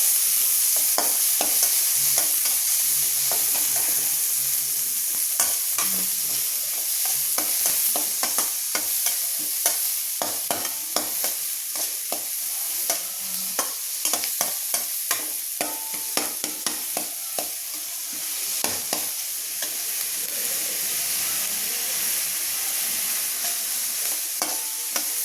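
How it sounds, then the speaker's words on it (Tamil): Chopped large onions sizzle and fry with popped mustard seeds in hot oil in a pan, a continuous crackling hiss broken by frequent scraping and clinking of a spoon stirring them. "இப்போ வெங்காயம் போட்டுக்கோங்க. பெரிய வெங்காயம் போட்டுக்கோங்க."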